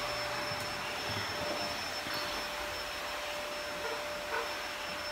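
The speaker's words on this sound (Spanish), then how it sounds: "Aspirando." A vacuum cleaner runs nearby with a steady, unbroken whooshing hum that holds at an even level, with no speech over it.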